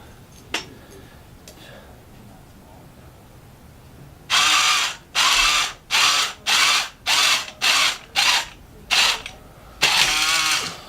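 A REV Robotics lift kit motor runs its string back down, whirring in a series of short, loud, evenly spaced bursts with brief gaps, ending in a longer run, close up.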